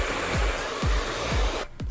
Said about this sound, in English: It's the best blow dryer out there. It's light, it's powerful, and it dries the hair really, really fast.